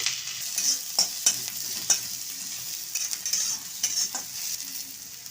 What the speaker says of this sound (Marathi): कांदा लाल होईपर्यंत भाजून घ्यायचा